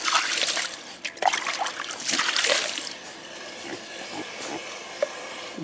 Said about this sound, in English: the water is sprinkling down off the side